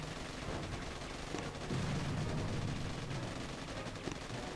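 Rapid gunfire and explosive bursts from the mobile strategy game Boom Beach crackle in a dense, continuous barrage that swells slightly midway, with no talking.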